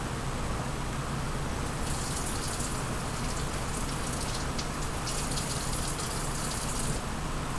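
Water poured steadily into sugar for a simple syrup base, a continuous splashing gush that stays loud and even throughout, with no talking.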